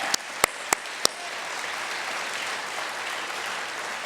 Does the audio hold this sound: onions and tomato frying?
no